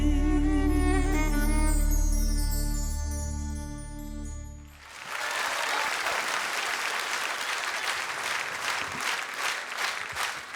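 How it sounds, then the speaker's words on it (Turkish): An audience breaks into dense, steady applause that follows a sustained musical passage and continues loud and even to the end. "Ustalarımıza bu alkışlar."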